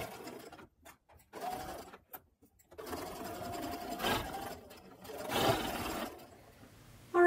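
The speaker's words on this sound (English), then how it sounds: "we are going to take this to the sewing machine and we are going to stitch in this fold that is closest to the raw edge all the way around." A sewing machine stitches bias tape around the neckline of a peasant top in several short bursts of rapid mechanical whirring separated by brief pauses, near and fairly quiet.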